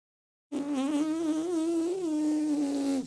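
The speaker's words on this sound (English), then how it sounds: "that's just me buzzing my lips." Lips buzz for trumpet practice without a mouthpiece, a steady nasal drone that starts suddenly and holds close and loud for about two and a half seconds with slight pitch wobbles, alone.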